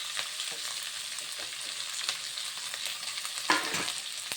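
Onions, ginger, garlic, curry leaves and green chillies frying in a pan for chicken curry, a dense hiss of oil with light stirring taps and one stronger scrape near the end, close up, no speech.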